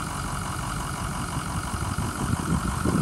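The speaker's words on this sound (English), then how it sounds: "Been running for like 40 minutes, idling nice and smooth." A steady, low diesel engine of a 2007 Ford F-350 dump truck idles continuously nearby, a smooth rumble with a slight swell toward the end.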